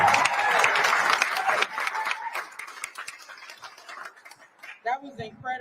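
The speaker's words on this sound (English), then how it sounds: "round of applause." An audience at a rally of women and mothers demanding justice breaks into loud applause that fades over a few seconds, with a voice speaking at the end.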